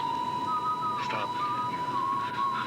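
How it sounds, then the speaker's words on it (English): Steady, high whistling tone plays from a radio, held with slight wavering and pitch bends, continuous and fairly loud with no one talking. "Stop that whistling."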